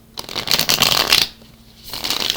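A deck of tarot cards is shuffled by hand in two quick riffling bursts: a longer crisp flutter, a short pause, then another brief shuffle, close and clear with no talking.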